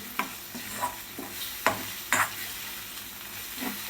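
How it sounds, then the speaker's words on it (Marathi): Beaten egg bhurji is stirred and fried in a pan, with a soft frying hiss under a run of distinct spatula scrapes and clacks spaced about half a second apart, close by and fairly quiet, with no talking. "आणि हे आपल्याला आता मिक्स करून घ्यायचं आहे."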